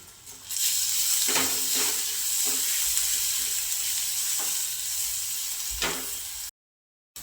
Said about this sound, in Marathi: आता मी लसूण आणि हिरवी मिरचीची पेस्ट टाकते तर हे पण आपल्याला छान असं कमी गॅसवरतीच परतून घ्यायचं आहे